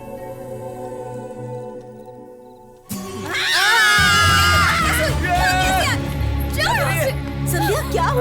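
A woman gives loud, shrill, wavering screams that break out suddenly after a quieter stretch. The screams keep going in several pitch-sliding bursts over a low steady background.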